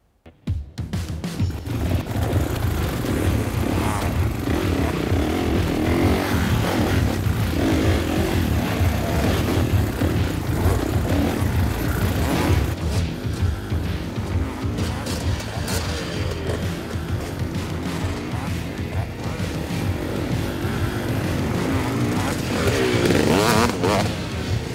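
A motocross motorcycle being ridden, its engine droning and revving continuously and loudly throughout, close by, with speech mixed in over the engine noise.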